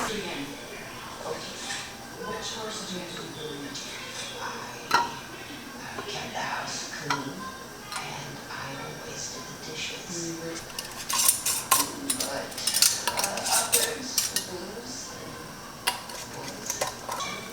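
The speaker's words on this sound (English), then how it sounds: "now I'm just going to put my lids and my bands on, and then I'm going to get them into the canner" Metal lids and screw bands being set onto glass canning jars of blueberries, giving light clinks and scrapes that come in scattered bursts and grow busier toward the end, with some talk in the background.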